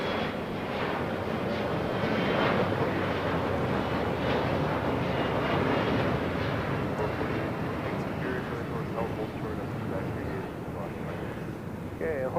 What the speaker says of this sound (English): This is Delta Connection 4018 taking off to San Diego on an E175.